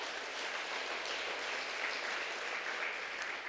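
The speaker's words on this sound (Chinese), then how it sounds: "我们再次拍手，谢谢他，谢谢。" A church congregation claps together in warm, sustained applause that stays even and dense for several seconds, with no distinct voices over it.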